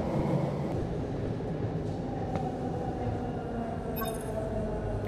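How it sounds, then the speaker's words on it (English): Steady rumble and rattle of a moving train in the VR game Vertigo 2, continuous wheel and carriage noise throughout with a faint high squeal near the end, no talking. "You may notice I have stopped the train,"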